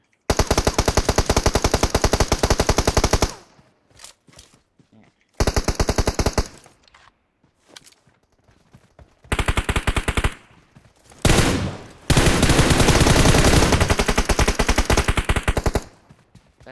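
Bursts of automatic gunfire from the video game PUBG Mobile, loud rapid volleys lasting a few seconds each, separated by quieter gaps with soft clicks and movement.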